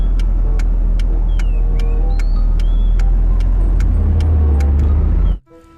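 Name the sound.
toy steering wheel playing car engine sounds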